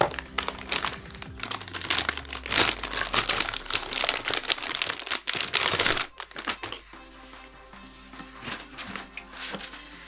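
Crinkling of an antistatic bag holding a GeForce GTX 480 graphics card, loud and close with dense rustling bursts for about six seconds before falling to a quieter room tone.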